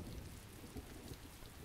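Steady rain falls over a muddy, soaked garden in the video game Heavy Rain, a soft, continuous low hiss of downpour with faint distant rumbling, brief and quiet, no voices.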